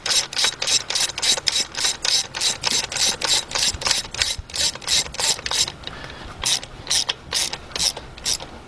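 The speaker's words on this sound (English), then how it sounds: "when you're tightening these plugs, you want to go till it stops and a little bit more" A ratchet snugs spark plugs into the aluminum-threaded head of a 2007 Volkswagen Passat 2.0 engine. Loud, close clicks run in a steady rhythm, pause briefly, then resume with a few more strokes.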